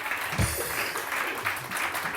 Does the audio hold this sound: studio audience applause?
yes